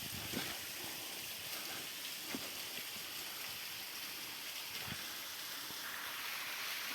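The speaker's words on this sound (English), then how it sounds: "what a waterfall" Steady broadband rush of a tall waterfall, roughly 70 to 80 feet high, pouring continuously in a village setting, with occasional faint splashes and clatters close by.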